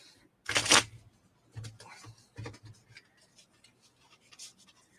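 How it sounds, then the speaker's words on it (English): A deck of cards for a solo tabletop game is shuffled by hand close up, starting with one loud riffle burst and followed by softer taps and scrapes as the cards are squared. "There's the deck shuffled."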